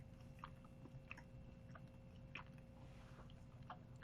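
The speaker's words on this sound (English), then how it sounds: "let's eat a peanut butter cup" Someone bites into and chews a gluten-free peanut butter cup at an expo, with a few soft, close bites and mouth sounds spread over steady background hum.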